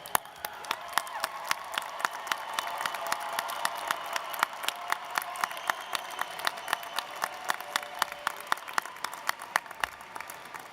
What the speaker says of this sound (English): Please join me in a big round of applause for all these graduates here today.